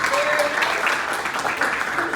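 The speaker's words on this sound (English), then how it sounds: "So give yourselves a round of applause" Audience applause at a holiday media preview event, steady dense clapping from a crowd sustained throughout, with some voices mixed in.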